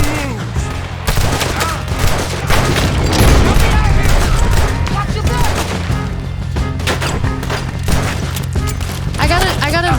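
A dense shootout in Red Dead Redemption II: rapid, overlapping gunshots crack and boom continuously, loud and close, with voices calling out in the mix.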